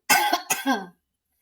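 A single person coughs twice in quick succession, close and clear, followed by silence.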